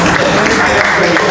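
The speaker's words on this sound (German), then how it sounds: "klatschen darf man natürlich auch" A crowd applauds at an ice hockey press conference after the EHC Bad Aibling versus EHC Klostersee game, with loud, dense, continuous clapping that fills the room from start to finish.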